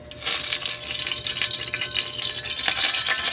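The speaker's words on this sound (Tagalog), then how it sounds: "Lalagyan ko ng mantika at mainit na yung kawali." An ostrich egg fries in hot oil in a pan, giving a continuous, close crackling sizzle that stays steady and fairly loud throughout.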